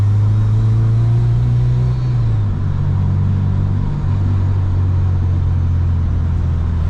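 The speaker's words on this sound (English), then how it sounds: "I just love hearing that supercharger" Supercharged Honda Civic Si, built to about 350 hp, under way with a steady low engine drone that shifts pitch mid-run, close and continuous with no talking.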